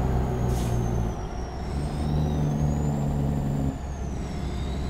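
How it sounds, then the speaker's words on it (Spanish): A heavy truck in American Truck Simulator runs with a steady low engine drone and hiss of air brakes, loud and close, with tonal whines shifting as it slows, no voices. "Vamos a meter freno, freno, freno, porque ya veo que viene un poblado."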